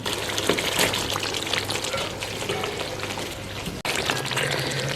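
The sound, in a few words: meat added to frying Afghani onion gravy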